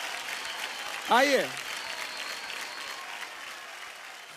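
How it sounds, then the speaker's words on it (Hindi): An audience on the Dance India Dance Super Moms stage applauds Super Mom Riddhi and Shyam, with steady moderate clapping beneath a brief spoken word from a host. "जोरदार ताली हो जाए super mom Riddhi and Shyam के लिए"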